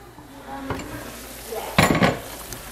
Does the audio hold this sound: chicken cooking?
yes